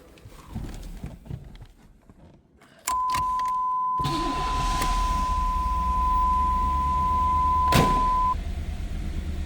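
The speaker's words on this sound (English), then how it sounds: "Let's go ahead and fire this up so you can hear it run" A 1992 Chevrolet Camaro RS 25th Anniversary coupe engine cranks and catches, then settles into a loud, steady idle close by, with a sustained warning chime ringing over it for several seconds.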